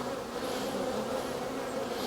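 Honey bees buzz steadily at an opened hive in a beekeeping apiary, a dense continuous swarm drone that stays loud and close for the whole stretch, with no talking.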